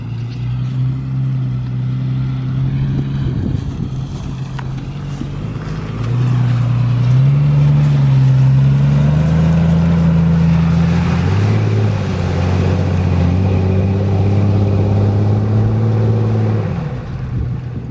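Off-road Jeep engine drones loud and close as the vehicle drives into water, revving up in pitch midway and holding a steady roar with faint splashing underneath before easing off.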